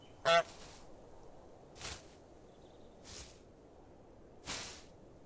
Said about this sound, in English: The goose.